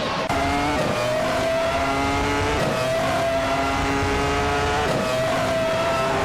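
Race cars in a racing video game, including a 40FG01B, with a loud, continuous engine drone that rises and falls through repeated gear shifts, close and steady with no talk.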